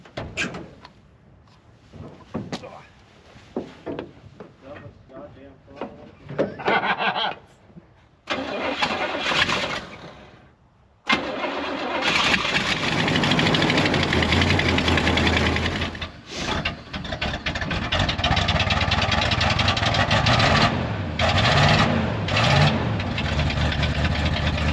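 A 454 Chevy 4x4 van engine cranks in several sputtering tries, then catches around halfway and roars into a loud, steady idle with brief revs and dropouts, close by.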